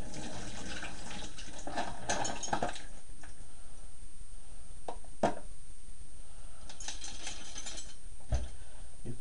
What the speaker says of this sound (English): now I'm going to strain the rest out